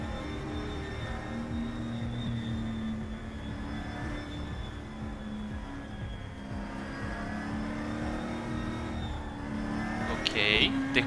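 A race car engine drones steadily at high revs in RaceRoom Racing Experience, a loud, sustained tone with a brief sharper burst near the end.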